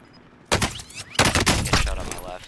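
Gunfire in a battle-royale shooter game: a sudden loud burst of rapid shots, a short gap, then a longer sustained fusillade, close and harsh.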